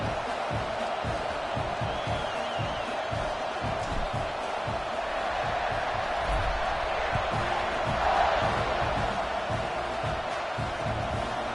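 Stadium crowd noise at a college football video game before kickoff against Clemson, a steady roar of many voices with scattered shouts and cheers swelling slightly near the end, continuous and dense throughout.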